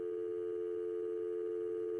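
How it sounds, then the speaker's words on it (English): A telephone dial tone hums as one steady, continuous electronic tone at moderate level, alone with no voices. "That sound is a dial tone"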